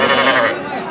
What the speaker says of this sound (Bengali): এগুলা কিন্তু বকনা বাছুর